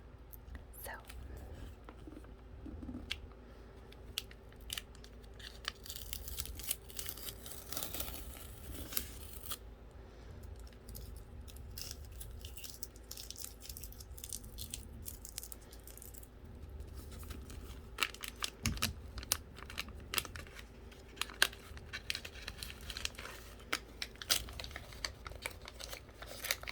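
A wrapped book package is opened with scissors snipping and paper crinkling and tearing, soft close rustles with scattered sharp clicks and cuts under faint whispered talk.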